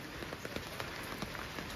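Steady rain falls at an outdoor swing in Bali, making an even hiss of drops on surfaces with faint scattered patters and no voices.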